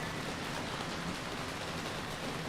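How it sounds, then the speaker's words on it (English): Pouring rain in a downpour, a steady, dense hiss that keeps an even loudness throughout with no voices. "Now it's pouring, but we're not at the height of it yet. We're still just in the downpour."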